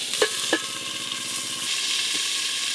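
Pointed gourd (kakrol) frying in a covered pan, giving a steady, close sizzle with a couple of sharp pops near the start and a continuous hiss throughout.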